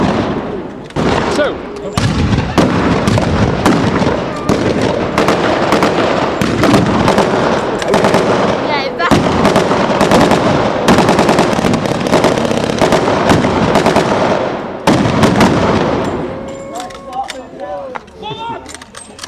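Blank-fire gunfire at a World War II battle reenactment in Blaenavon, with commandos against the German Home Guard: dense, loud bursts of rifle and machine-gun fire rattling almost continuously, then thinning to scattered shots near the end, with a brief voice.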